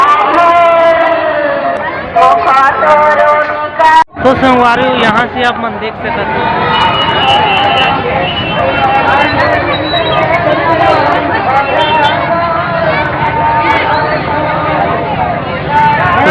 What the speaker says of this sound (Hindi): तो देख सकत है काफी ज्यादा भीड़ है